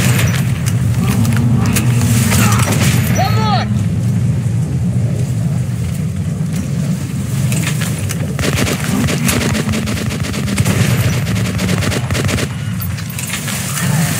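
Gunfire in the Metro Last Light video game, a dense rattling burst of shots over a constant low rumble of game ambience, with a voice talking briefly partway through.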